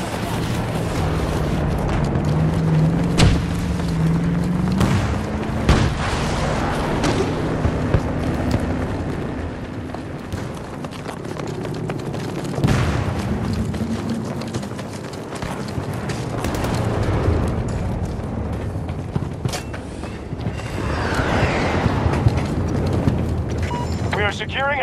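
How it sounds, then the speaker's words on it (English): Grenade explosions from Battlefield 2042 rumble through dense battle noise, with several deep booms spread across the clip under ongoing voices and combat chatter. "Throwing grenades!"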